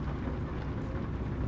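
Heavy rain in the truck-driving game American Truck Simulator makes a dense, steady hiss that stays even throughout the short stretch, with no clear thunder and no talk.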